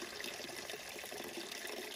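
Spring water pours steadily from a pipe at a trailside source in the North Carolina mountains, a continuous close splashing rush with no break.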